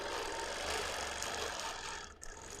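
A sewing machine runs at a slow, steady speed through bulky seams of a scrappy vintage quilt top, giving a continuous close whirring drone that cuts out briefly near the end.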